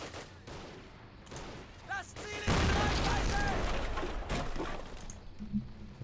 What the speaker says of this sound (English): Goddamn mortar right there.